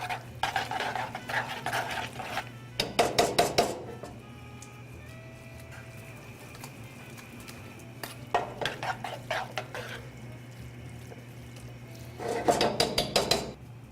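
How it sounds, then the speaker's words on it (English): Philadelphia Italian herb and cheese cooking cream being stirred into a crab and tomato risotto in a pan, with three bursts of rapid scraping and clinking from a utensil against the pan over a low steady hum. "That goes right in the pan. We're going to stir that in."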